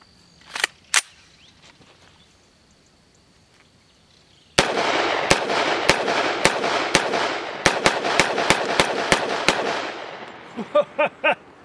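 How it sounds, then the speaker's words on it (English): A CMMG Banshee 45 ACP AR pistol fires Doubletap 450 SMC wadcutters outdoors, about a dozen sharp, loud reports in a steady string over a lingering echo, with a few earlier distant pops. "Now we're going to try some of the Doubletap 450 SMC. This is wad cutters."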